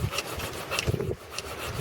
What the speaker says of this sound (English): These diamond laps are brilliant for bringing carbide tips back to life, even on lathe tools